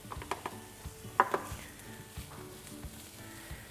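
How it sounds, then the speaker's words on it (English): Diced onion and grated garlic drop into hot oil on a hob with a few clattering knocks against the pan, followed by a faint, steady sizzle and light utensil taps. "Now that my oil is hot, I'm gonna add our diced onion and grated garlic."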